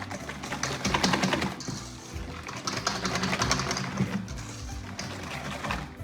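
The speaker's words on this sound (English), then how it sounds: "So we've got to whisk this until it's a little bit changed colour and a little more lighter" Egg yolks and sugar whisked by hand in a bowl, a steady rapid clicking and scraping rhythm running throughout, close and moderately quiet.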